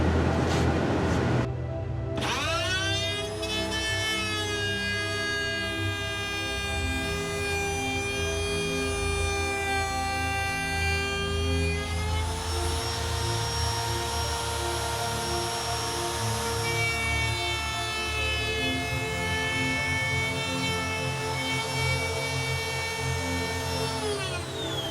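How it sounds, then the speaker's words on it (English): A Performax trim router cutting a groove freehand, its high motor whine spinning up after a brief start and holding steady and loud throughout, with the pitch shifting slightly as the bit bites into the wood. "I'm going to see what happens if we try and route a groove without a guideline"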